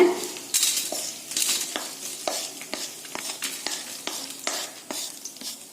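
Coriander seeds roast in oil in a pan, with a soft crackling sizzle under frequent rhythmic scrapes and clinks of a spoon stirring against the metal, close and fairly quiet.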